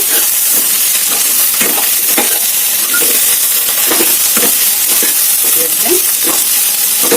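Onions and okra fry loudly in a hot pan, a constant close sizzle broken by repeated scraping stirs of a spatula at a roughly regular rhythm, with no talking.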